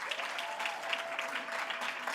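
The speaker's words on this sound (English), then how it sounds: "Please clap it up for Caden K.K. Cooper." An audience at a sports awards ceremony claps steadily at a distance, a soft, dense patter of applause with no speech over it.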